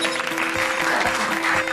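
Audience applause at a Hindi-language variety show, a dense steady wash of clapping over a sustained tonal hum, continuing without pause.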